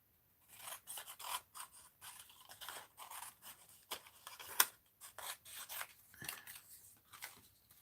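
Scissors trimming paper for an art journal, a series of quiet crisp snips and sliding cuts in irregular rhythm, close and faint with no talking.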